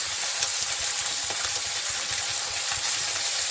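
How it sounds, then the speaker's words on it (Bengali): Small mourola fish sizzle steadily in hot mustard oil in a pan, a close, even frying hiss with faint crackles throughout. "তেলটা আমার গরম হয়েছে, আমি মাছটাকে দিয়ে দিয়েছি।"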